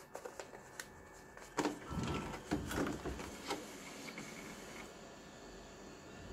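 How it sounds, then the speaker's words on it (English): Label media being fed into an Afinia L501 label printer: a run of soft mechanical clicks, rustles and brief scraping pulls at close range, with no talking. "Feed the media into the machine."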